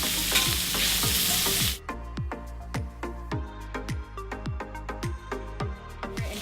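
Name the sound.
sausage frying while being turned over in pan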